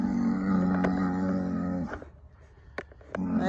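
A farm cow lowing at feeding time, one long, close, deep moo that breaks off, followed by a brief pause, a few small knocks, and the start of another call.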